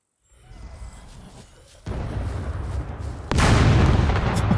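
A rocket turret in the survival game SCUM fires with a whoosh and a heavy boom, followed by a louder blast near the end, with no talking over it.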